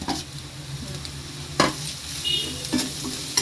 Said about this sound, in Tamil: இஞ்சி பூண்டு போட்டு நல்லா வதக்கி விட்டுருவோம்